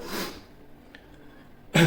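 A short harsh cough opens, then a quiet pause, and another loud, rough cough bursts in at the end, close to the listener.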